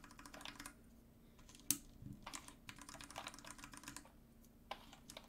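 Keystrokes on a custom TKL mechanical keyboard with PBT keycaps, milky Gateron Yellow switches and a steel plate, clacking quietly in irregular bursts with brief pauses and one sharper louder click, no voices.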